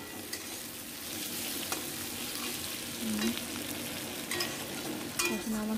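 Tomato sautéing in a pan with a continuous sizzle, broken by scraping stirs and soft clinks of the spatula, close and with no talk.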